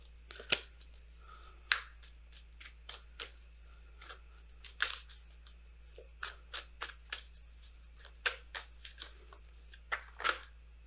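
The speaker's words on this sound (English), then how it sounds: "If I can shuffle." Oracle cards being shuffled by hand at a quiet tarot reading table, with a string of soft, papery riffles and sharp card snaps that come at uneven intervals over several seconds. Nobody talks.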